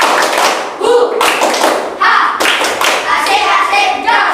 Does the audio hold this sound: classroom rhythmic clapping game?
yes